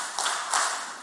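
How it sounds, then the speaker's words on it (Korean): A church congregation claps in unison, with sharp, fairly close bursts of hand claps in quick succession in a reverberant hall. "박수 3번요"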